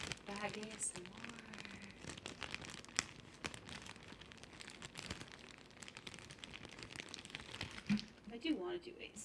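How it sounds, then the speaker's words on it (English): Thin plastic bag crinkled and rustled in quick, irregular bursts of crackling, close and moderately loud, with a person talking over much of it. "Plastic bag ASMR."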